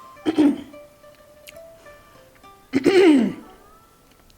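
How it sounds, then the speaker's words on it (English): Two rough throat clearings, close to the mic, the second longer and more forceful, separated by a quiet pause. "I'm starting to have to clear my throat"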